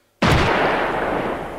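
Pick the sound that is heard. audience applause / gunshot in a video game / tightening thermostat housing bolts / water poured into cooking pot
gunshot in a video game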